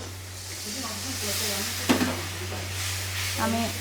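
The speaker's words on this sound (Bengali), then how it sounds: "আমার এখানে মশলা কষানো হচ্ছে, আদা রসুন বাটা দিয়ে দিছি।" Spices and ginger-garlic paste fry in a pan with a steady sizzling hiss, broken by a sharp stirring scrape, while someone speaks over the cooking and a low hum persists underneath.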